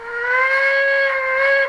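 A Brawa class 01 model steam locomotive with a new-build boiler, Epoche IV, sounds its alternative steam whistle from its digital sound decoder: a single clear, steady chime-like blast under two seconds long, heard alone.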